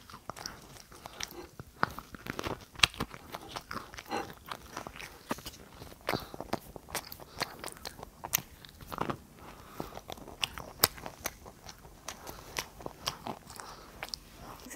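A 33-month-old child eats a homemade Snoopy waffle, with soft, close biting and chewing sounds coming in irregular bursts over a quiet room and no talk.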